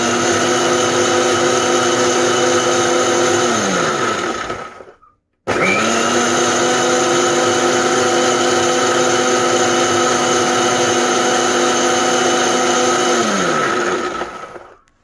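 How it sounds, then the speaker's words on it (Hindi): A kitchen blender whirs loudly through paneer kofta gravy thinned with half a cup of water, running steadily, cutting out briefly, then restarting for a second long, even burst before winding down. "हाणे मां इनखे ब्लेंड कयां थी।"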